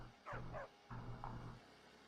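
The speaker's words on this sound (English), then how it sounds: "Oh, another doggy. Whose dog is this?" A dog in the video game Cyberpunk 2077 barks twice, then twice again in close, clear woofs with short pauses between, against an otherwise quiet background.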